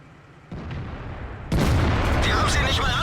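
In a tank video game featuring the German Jagdtiger tier 9 tank destroyer, a heavy artillery shot lands as one sudden loud boom, followed by a sustained rumbling roar over a quieter background of battle noise.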